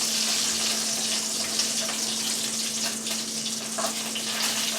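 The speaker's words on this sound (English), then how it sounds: "I just have to flip some bacon" Bacon fries in a pan with a constant, dense crackling sizzle at moderate level, accompanied by a steady low electrical hum.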